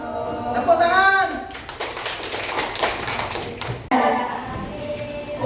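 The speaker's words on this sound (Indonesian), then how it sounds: "Tepuk tangan." A class of students claps in a lively burst of quick, uneven hand claps lasting a couple of seconds, with voices talking and calling out before and after in a classroom.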